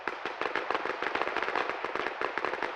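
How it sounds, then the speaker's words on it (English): Rapid gunfire crackles without pause in a heavy DayZ/Arma battle in Chernarus, dense overlapping shots in a steady loud barrage with no voices. "The 15th Brigade returning equally heavy fire, with the exception of artillery"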